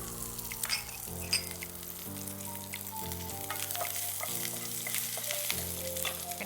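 Mustard seeds, two dried red chillies and chopped curry leaves frying in hot coconut oil, a steady close sizzle with scattered pops and crackles and no one speaking.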